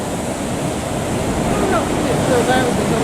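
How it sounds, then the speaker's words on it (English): Waves wash onto the shore at DY Beach on a sunny, windy day, a steady rushing roar of surf mixed with wind noise, with faint bird calls in the background. "the waves crashing into the sea"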